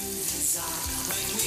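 Salmon sautéing in a pan with multicolored peppercorns, a steady close sizzle with small crackles and brief stirring movements throughout, with no voices.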